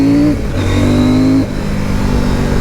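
A CFMOTO 800 MT Explore motorcycle with an LC8 engine accelerates loudly and close by, its engine note climbing steadily through the gears with a brief dip partway through.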